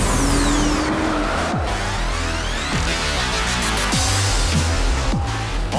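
A BMW M2 and a Cadillac ATS-V launch from a standing start, engines roaring loud and close, with rapid gear-change rises and drops stacking over the run and a harsh, continuous mechanical din throughout.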